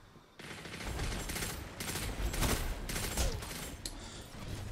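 Rapid bursts of gunfire and scout rifle shots echo through a Destiny 2 Crucible match, loud and dense with brief gaps between volleys, over a constant game background.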